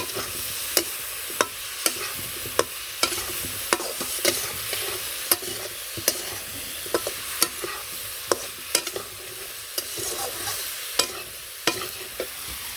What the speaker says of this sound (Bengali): খানিকক্ষণ ভাজার পরে দিয়ে দিলাম কাঁচামরিচ ফালটা